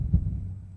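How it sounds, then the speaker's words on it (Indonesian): A single low, muffled heartbeat thump used as a sound effect in a creepy horror story, heard alone over a dull background hum. "Sampai-sampai gue pun bisa dengar detak jantung gue sendiri."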